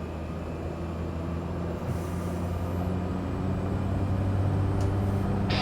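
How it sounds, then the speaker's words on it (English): A video game aircraft engine spinning up, a low rumbling drone that gradually grows louder and fuller over several seconds, with brief faint whistling tones on top and no talking. "Spin the engine up first."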